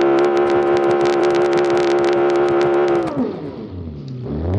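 A rally car engine in the BeamNG driving game holds a loud, steady high-revving drone with a buzzing, crackling edge, then drops off sharply as the revs fall away near the end.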